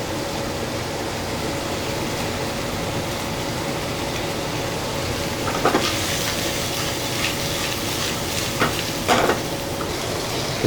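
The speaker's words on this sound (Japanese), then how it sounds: "で鶏の油をドーンと入れます。 でパチパチ言うまで強火。" Chicken fat sizzles and crackles in a pan over high heat in a ramen shop kitchen, a steady dense hiss with occasional sharper pops and stirring clatter near the end.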